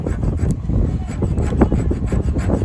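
The spine of a D2 steel fixed-blade knife scrapes across pressure-treated wood in close, continuous rasping strokes with uneven pressure.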